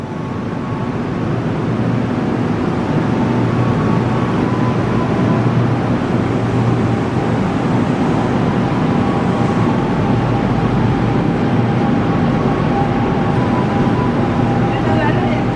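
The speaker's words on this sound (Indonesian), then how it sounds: "Oke, KRL Inka berangkat." Inka-built KRL electric commuter train pulling away from a station platform, a steady loud rumble and motor drone that persists throughout with faint hum tones, while people talk in the background.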